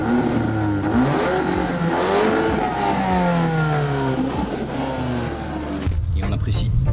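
A Volkswagen T-Roc R, a 300 hp SUV fitted with four Akrapovic exhaust tips, revs loudly and up close, its engine note climbing and falling in repeated sweeps before cutting off sharply near the end.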